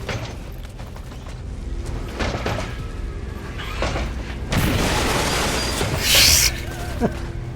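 Grenade blast in the XCOM 2 video game, a loud burst of noise swelling midway and peaking near the end, set among game battle sounds and a muffled low rumble.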